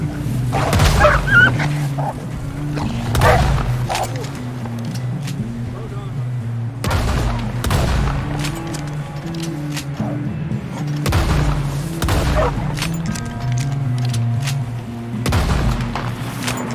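Heavy booming gunshots in Red Dead Redemption 2, several loud reports spaced every couple of seconds over a low droning score, with voices shouting between them.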